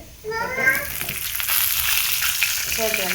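Cauliflower florets frying in a pan for curry kulambu, a steady close sizzle that starts after a brief quiet moment and continues evenly, with faint metallic stirring scrapes and a few high chirps on top.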